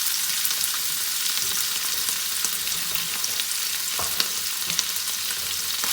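Ground bitter gourd seeds frying in ghee in a pan give off a dense, continuous bright sizzle, with a few faint knocks of a spoon, close and steady, no voices.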